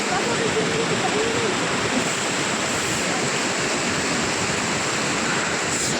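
Cold mountain stream water rushing in Kharma Valley near Manali, a loud, close, constant roar of flowing water, with a voice talking faintly underneath.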